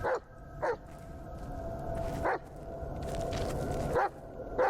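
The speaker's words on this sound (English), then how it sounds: "Stop barking at me." A dog in a video game gives several short, sharp barks spaced a second or two apart over a low, steady background hum.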